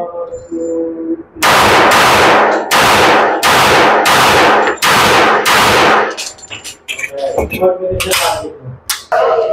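A .22 LR practice gun fired at a shooting range: about six sharp, loud reports at a roughly even pace, each with a ringing tail, followed by lighter metallic clinks and handling noises.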